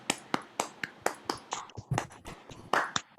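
Session participants clap in a light, sparse round of claps, around a dozen crisp hand strikes spaced fairly evenly. The claps sound small and close, like a few people applauding.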